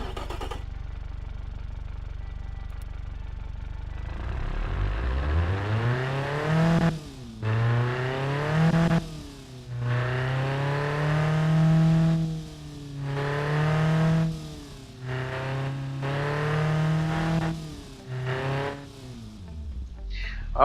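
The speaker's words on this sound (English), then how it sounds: "Alright, the engine sounds better than before." After a few seconds of low idling, a tuned car engine with a new performance package revs up repeatedly in several rising and falling bursts, close and loud, with short drops back toward idle between them.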